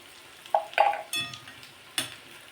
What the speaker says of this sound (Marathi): आता हे संपूर्ण टाकून घ्यायचे आहेत आणि मस्त तळून घ्यायचे